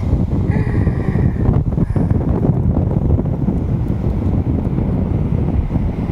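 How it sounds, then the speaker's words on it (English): Strong wind buffets the microphone in a steady, heavy low roar that continues throughout, with no talking, on a windy, sandy Gold Coast beach. "It is very windy and very sandy here on the Gold Coast today."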